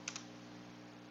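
A couple of quick keystrokes tapped on a computer keyboard, close and quiet over a steady low hum, then nothing but the background drone.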